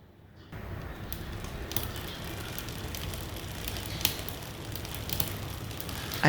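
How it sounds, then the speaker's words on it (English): Bicycle chain rubbing against a rear derailleur on a bike in a workshop stand, a steady low whirring scrape running continuously at close range, with faint bird chirps and small clicks in the background. "I can still hear chain rub"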